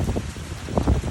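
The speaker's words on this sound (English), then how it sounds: "Look at that, all that rain." Heavy storm rain falls as a dense, continuous hiss mixed with gusty wind noise and a few soft patters close by.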